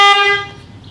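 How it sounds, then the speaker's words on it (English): A newly installed horn on a 2013 Harley-Davidson Softail Deluxe gives one loud, close, brassy blast that cuts off after about half a second and leaves a short fading tail. "let's go ahead and give that horn a check."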